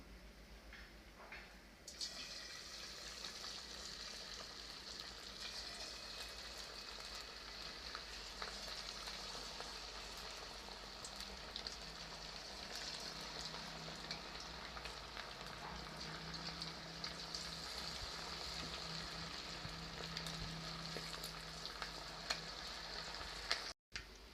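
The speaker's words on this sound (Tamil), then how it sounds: "இப்போ நம்ம வந்து சிக்கன் பொரிச்சு எடுத்துடலாம்." Chicken pieces deep-fry in a pan of hot oil, giving a steady, quiet crackling sizzle that continues evenly for over twenty seconds with no talking.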